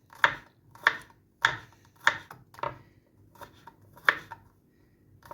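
A chopping knife cuts vegetables on a board in six or seven sharp, evenly spaced strikes, close and fairly quiet, with no talking.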